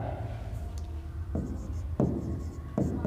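Chalk or marker strokes on a classroom board during a Hindi-medium class 10 lesson on flower structure, with several short scratchy bursts spaced about a second apart over a low room hum.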